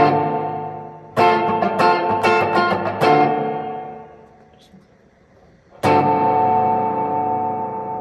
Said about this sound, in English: Get quite a bit more echo when we hit the delay time on there.